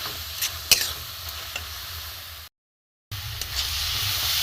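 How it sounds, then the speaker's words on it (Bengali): Grated coconut filling for a rice-flour pitha dry-frying in a pan, stirred with scraping spoon strokes over a steady soft sizzle and hiss, with one brief gap of silence partway through. "নারকেলটা খুব ভালো করে ভেজে নেব, শুকনো করে একদম"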